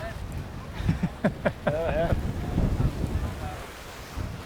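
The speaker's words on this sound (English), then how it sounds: "It's getting windy." Wind gusts rush steadily past the microphone outdoors, with a few brief voices and creaks partway through.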